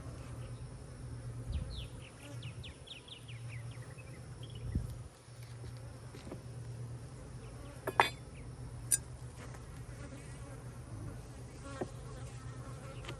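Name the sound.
honey bees buzzing at an opened hive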